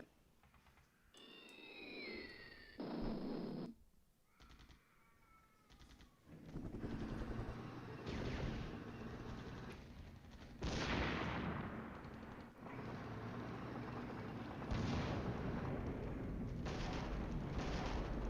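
Gunfire and explosions in the Flashpoint Campaigns wargame, several booming shots and blasts over a busy rumbling background, with a whistling sweep early on, then repeated loud bursts spaced through the scene.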